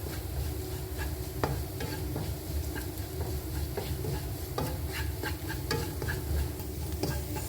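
Chicken frying with chili on a low flame gets stirred in the pan: occasional scraping knocks of the spoon over a steady sizzle and low background hum, close and continuous, with no talking.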